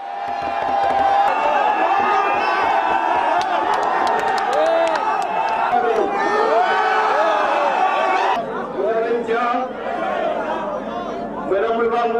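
Dense, unruly crowd at an outdoor political rally in Butaleja, loud continuous shouting, chatter and whoops with bursts of cheering and chanting, close and crowded throughout with many overlapping voices.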